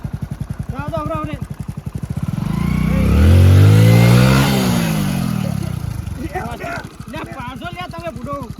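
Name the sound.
motorcycle engine revving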